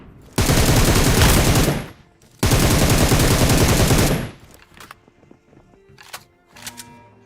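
Rapid automatic gunfire in a Transformer robot battle video game, two long sustained bursts of loud continuous shooting separated by a short pause, followed by scattered fainter shots and clatter.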